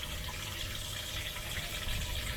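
Water flows steadily through the inlet valve of a Kono II fish-keeping container, a continuous broadband rush and trickle close by with no voices.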